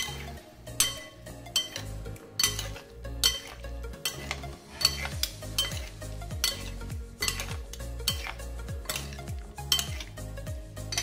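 Cubed butternut squash is tossed with oil and paprika, giving a run of rhythmic, close clinks and scrapes of a utensil against a bowl, in repeated quick strokes with no talking.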